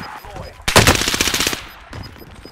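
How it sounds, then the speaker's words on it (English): Loud machine gun fire in Call of Duty: Modern Warfare, a rapid burst of about a second followed by a shorter trailing burst, with faint game ambience around it. "Getting shot from everywhere."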